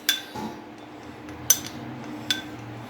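A spoon whisks yogurt in a bowl, with three sharp clinks against the rim spaced about a second apart over quiet, soft scraping.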